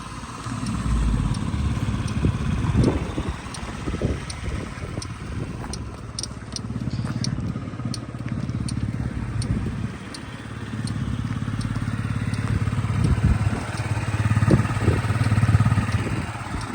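A Yamaha Jog SA36 fuel-injected scooter idles steadily and quietly nearby, its low engine hum continuous throughout with faint crackles and light background noise.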